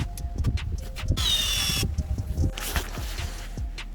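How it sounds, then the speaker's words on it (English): A power drill fitted with a small hole saw bores a hole while wiring a LASFIT light bar switch, giving a loud whining, grinding burst in the middle that stops abruptly, with clunks and handling knocks around it. "I got a hole drill using a little hole saw"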